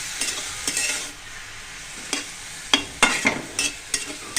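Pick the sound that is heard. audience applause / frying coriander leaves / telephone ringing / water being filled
frying coriander leaves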